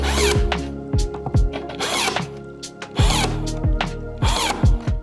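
A Ryobi USB lithium 4-in-1 stapler fires crown staples into a bevel in quick succession, each shot a short, close mechanical whir-and-snap, repeated about half a dozen times with brief pauses.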